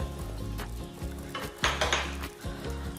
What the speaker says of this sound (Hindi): तो इसके अंदर अपना बचा हुआ तड़का ऐड कर देंगे।